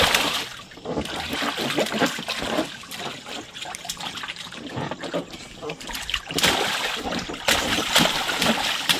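Children splash and play in water, with continuous sloshing, splatter and trickling mixed with their voices and chatter throughout, fairly loud and close.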